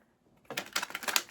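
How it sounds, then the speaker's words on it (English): Large cards being shuffled by hand, a short burst of quick crisp riffling flutters that begins after a quiet pause and sounds close, with no talking. "shuffling the big cards is a little bit of a challenge still"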